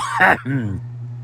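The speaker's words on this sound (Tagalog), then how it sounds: "Excuse me po, inuubo po talaga ako." A single close, throaty cough followed by a short rasping throat-clearing sound, then a low hum remains.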